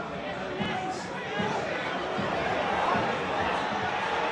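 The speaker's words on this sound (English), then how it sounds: "Crowd certainly are getting a bit frustrated. There's groans every time the ball goes sideways or backwards" Football crowd at Tranmere Rovers versus Forest Green, a League Two play-off match, murmuring and groaning in frustration as a steady, distant wash of stadium noise under a commentator's voice.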